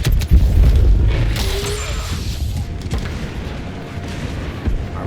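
A detonated charge explodes in the Star Wars Battlefront II video game, opening with a loud, deep boom, then a long rumbling, crackling tail of combat noise with no voices.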